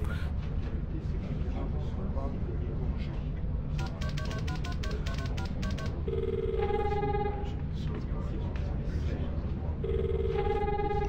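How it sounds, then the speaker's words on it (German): A telephone rings repeatedly in the point-and-click game The Longest Journey, with bursts of ringing and electronic tones over a steady background hum, and a voice talking at times. "man muss das eine Telefon mit dem anderen Telefon anrufen."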